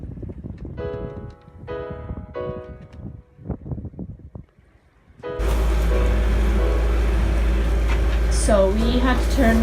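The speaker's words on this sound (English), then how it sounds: "So we had to turn on our engine because the winds have dropped to pretty much nothing." A sailboat's auxiliary engine runs at sea near the Faroe Islands in dead calm, a loud steady low drone starting partway through and continuing to the end, preceded by speech.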